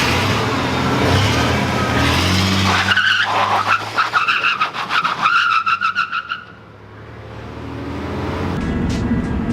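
A 1998 GMC rear-wheel-drive manual pickup truck skids through donuts or drifts, loud engine roar joined by a pulsing, rhythmic tire squeal in the middle before fading, then the engine revs back up.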